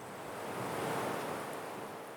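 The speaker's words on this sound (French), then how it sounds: "Le vent redoubla de violence" Strong wind roars steadily, a broad, continuous rushing that swells slightly in the middle and never pauses, with no voices.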